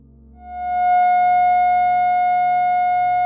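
A single sustained electronic F sharp tone, generated from a hexagon's 720 degrees, swells in and holds steady and pure with faint overtones, alone and unbroken.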